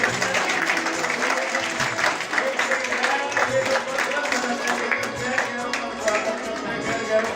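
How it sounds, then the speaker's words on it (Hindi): A large audience at a Shaheed Diwas event bursts into loud, sustained applause, a dense, continuous roar of many clapping hands that holds steady throughout. "तालियों की गड़गड़ाहट के साथ"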